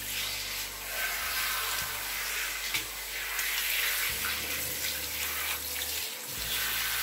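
Water runs from a tap into a sink or basin for children's hair care, a steady close splashing hiss that briefly stops and restarts near the end, with no talking.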